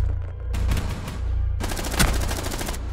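Rapid automatic gunfire in a Rainbow Six Siege match, sounding as two sustained bursts of close, loud shots separated by a short pause, with no talking.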